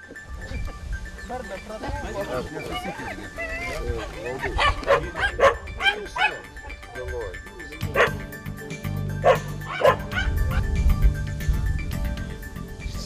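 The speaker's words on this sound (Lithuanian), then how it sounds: "Plėšriųjų gyvūnų medžioklėse mums talkina medžiokliniai šunys." Several hunting dogs bark excitedly in repeated bursts outdoors at artificial burrows during field trials, some yips mixed in, with people talking over and between the barks.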